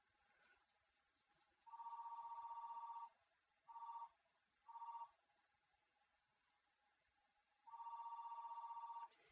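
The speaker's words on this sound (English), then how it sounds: "I'm sorry that the phone's ringing," A telephone rings in a quiet room during a fabric and puff-paint craft session: one long ring, two short bursts, then another long ring, fairly soft, with no talking.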